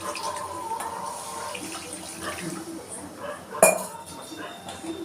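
Water runs and splashes into a cooking pot for a few seconds while making dried anchovy curry, with clinks of metal and a sharp clatter partway through.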